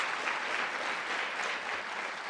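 Steady applause from an audience fills the whole stretch, even and unbroken, without voices rising above it.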